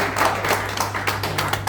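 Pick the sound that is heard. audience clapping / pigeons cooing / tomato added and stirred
audience clapping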